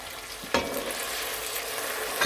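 Chana daal stir-fries in a pan after water is added, giving a loud, steady hissing sizzle, with a sharp scrape of stirring near the start and another at the end.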